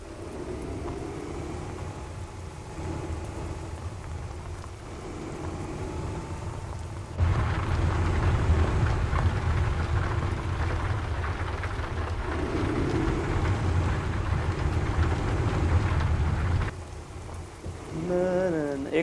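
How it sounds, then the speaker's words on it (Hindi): Heavy rain with rolling thunder in Euro Truck Simulator 2 during a luxury bus drive through narrow streets, a steady dense downpour that grows louder midway, with low rumbles underneath and no talk. "बारिश बहुत तेज है"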